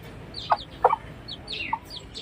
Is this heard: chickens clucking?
yes